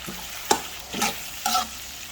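Bopis with tomatoes, chili flakes and bay leaf cooks in a pan, a soft background sizzle broken by three short scraping stirs spaced about half a second apart, close and moderately loud.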